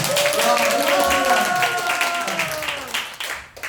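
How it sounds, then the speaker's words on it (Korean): Church congregation at a revival service clapping, scattered applause mixed with voices and sung or sustained vocal tones, fading toward the end. "박수 한번 쳐줘요"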